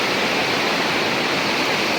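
The Kali River rushes along the India–Nepal border in a dense, unbroken roar of flowing water, loud and steady throughout.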